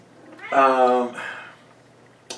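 A pet cat gives one drawn-out, tonal meow with a shorter follow-up call. It sounds close and clear, and there is no talk over it.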